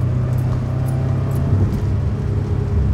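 A Japanese-market Subaru Legacy twin-turbo engine pulling under acceleration, a steady low droning rumble heard from inside the car, loud and continuous with a slight rise in pitch, no talking over it.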